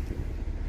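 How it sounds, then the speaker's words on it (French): Strong wind on the deck of a ferry sailing from Greece to Italy buffets the microphone in a loud, continuous low rumble, with no voices. "Et il y a vraiment du vent."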